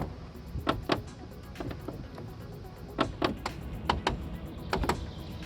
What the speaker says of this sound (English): This is what the door opening mechanism sounds like, more accurately, my door stop.